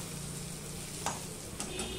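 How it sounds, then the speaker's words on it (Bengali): Potatoes being stirred and fried in a pan, a close, even sizzle with a couple of sharp spatula scrapes near the end, no talking. "আমি সম্পূর্ণটা মিশিয়ে নিয়ে কষিয়ে নেব"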